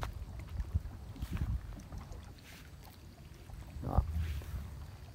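A few soft paddle strokes from a rowboat dip and splash in the water, spaced irregularly, with light wind noise around them outdoors.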